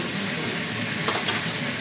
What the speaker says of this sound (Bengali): অলমোস্ট কমপ্লিট হয়ে গেছে আমার চিকেনটা ভাজা